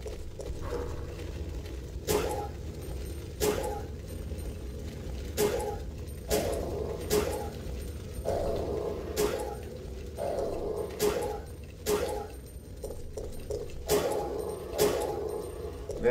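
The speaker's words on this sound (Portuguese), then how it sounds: "Cachorros, os cães estão à solta." Dogs in Resident Evil 3 Nemesis bark and whimper in repeated sharp bursts every second or two over a low game rumble, fairly close.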